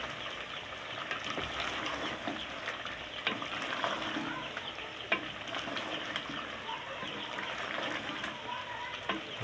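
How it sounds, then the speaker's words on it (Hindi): Masala is stirred into a potato and chicken curry in a hot pan, a steady close sizzle with scraping and occasional clinks of the spoon against the pan, continuous throughout. "ये इसमें ऐड कर रहे हैं, इसको अच्छे से मिक्स करेंगे"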